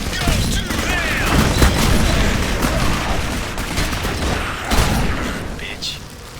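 Dense, sustained gunfire rattles through a battle in the video game Jericho, with booms and mechanical clatter mixed in and voices heard alongside.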